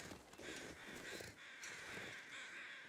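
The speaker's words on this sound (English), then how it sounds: "I hear crows" Crows caw in The Long Dark near a lookout tower, a string of rough, faint calls heard from a distance over wind-like noise.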